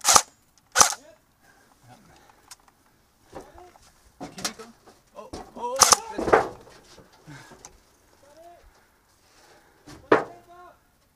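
Toy cap gun shots: sharp, loud cracks in a short burst near the start and again midway and near the end, with pigeons cooing faintly between them and people chattering in the background.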